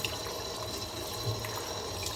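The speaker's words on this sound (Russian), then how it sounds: "Это уже вторая вода набирается." Water runs from a tap into a bowl for a second rinse of dough, a steady, fairly quiet rushing stream without pause or speech.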